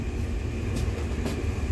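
An Indian Railways freight train with a WDG 4G diesel locomotive gives off a steady, deep rumble and drone, a continuous low mechanical throb with faint hiss bursts, heard alone without talking.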